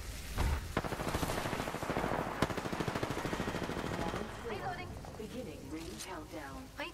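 Rapid automatic gunfire in a video game rattles out as a fast, even burst for several seconds, then fades as a voice takes over and speaks on top of it.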